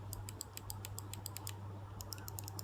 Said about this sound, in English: So these triggers are good, they're responsive, they are also clicky.